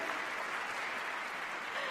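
Audience applause for the UB Blake Chamber Ensemble at an inauguration ceremony, a short, even wash of clapping from a crowd heard at moderate level.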